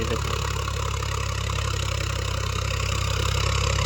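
A tractor engine idles steadily during ploughing, a loud, continuous low throbbing drone with an even, unbroken rhythm and no talk over it.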